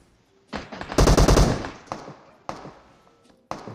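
Automatic gunfire in the mobile battle-royale game PUBG Mobile: a loud burst of rapid shots, then several single sharp cracks spaced apart, with no talk.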